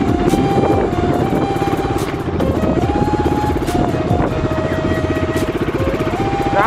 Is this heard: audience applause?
no